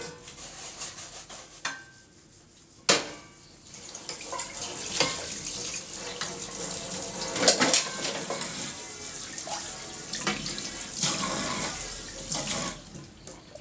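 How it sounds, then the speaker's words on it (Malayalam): Tap water runs steadily into a sink while dishes are washed, with occasional knocks and clinks of pots, plates and cutlery over the continuous splashing stream, fairly close and with no talking. "കുറച്ച് പാത്രങ്ങൾ കഴുകാൻ വേണ്ടിയിട്ടുണ്ടേനും"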